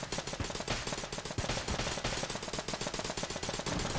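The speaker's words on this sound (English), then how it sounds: "Against spent, nail gun is really good because you don't have to reload it ever." Rapid, continuous nail gun fire in the video game Enter the Gungeon, a dense unbroken stream of quick shots at moderate level with no talk.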